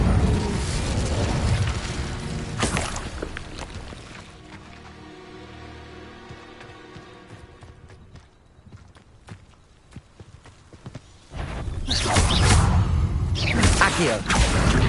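Fiery spell blasts from Incendio casting in Hogwarts Legacy, loud bursts in the opening seconds and again near the end, with quieter rustling, footsteps and scattered cracks in between.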